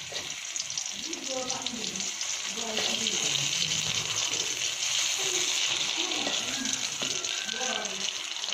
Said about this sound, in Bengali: আমার মিষ্টি কুমড়া ভাজা হয়ে গেছে